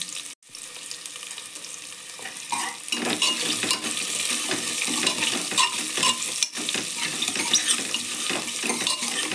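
Onions with a little salt sautéing in a pan, a continuous close sizzle with stirring and scraping throughout, fairly loud, with no talk.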